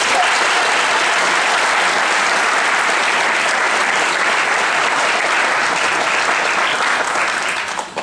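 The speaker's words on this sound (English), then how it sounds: "I might ask the audience to hold your applause" Audience at an education-focused political debate breaks into sustained applause, a dense, steady wall of many hands clapping for about eight seconds, tapering slightly at the very end, with no voices on top.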